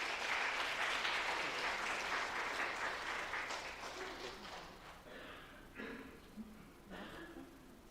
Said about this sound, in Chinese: 我们用拍手热烈掌声